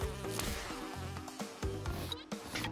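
A bee buzzing in Crash Bandicoot Remastered 2, a continuous insect drone mixed with game music and sharp percussive hits, moderately loud, no talk.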